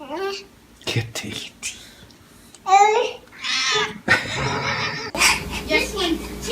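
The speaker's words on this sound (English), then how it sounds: "Kitty." A cat gives a few short meows close by, mixed in among soft, whispery talk from people and a child in a quiet room.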